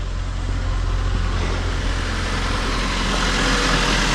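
A 2002 Mitsubishi Lancer OZ Rally idles smoothly and steadily, its engine giving a constant low hum and a quiet even drone, close by and with no talking.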